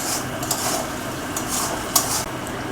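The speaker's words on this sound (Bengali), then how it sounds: "এবারে ভালো করে আলুটাকে লাল লাল করে একটু ভেজে নিতে হবে" Salted potatoes fry in oil in a pan until reddish-brown, giving a soft continuous sizzle broken by a few scraping stirs of a spatula against the pan.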